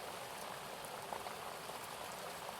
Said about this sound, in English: Sounds of the raindrops leaping from one leaf to another